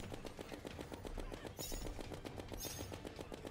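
Candy corn rifle firing in Terraria, a fast, evenly spaced stream of rapid gunshots that goes on without a break, loud and alone, with a sharp hissing burst partway through.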